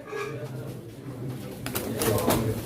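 Pigeons coo softly at a pigeon auction in Çorum while someone talks nearby. Wing flutters and handling noises rise toward the end.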